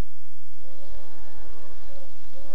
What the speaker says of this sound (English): There's your poor train.